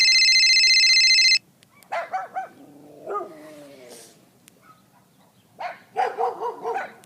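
An injured dog on a street, reportedly hit by cars, gives several close yelping barks and whimpers in short bursts, with a loud electronic tone at the start and brief voices nearby.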